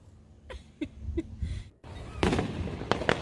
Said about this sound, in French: On a des feux d'artifice! juste pour nous autres!